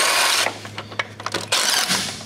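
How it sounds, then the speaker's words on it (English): A power tool spins off 5/8 transmission mount bolts during an LS engine swap, with loud whirring bursts separated by short clicks and rattles. "So we can remove those 5/8 bolts."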